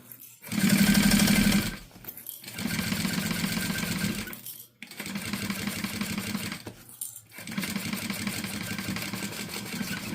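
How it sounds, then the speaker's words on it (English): Sewing machine running a 1/4 inch seam with backstitching, four close bursts of fast rhythmic needle chatter separated by brief pauses, the first loudest and the rest steady. "we are going to take this to the machine and we are going to sew at a 1/4 inch seam allowance"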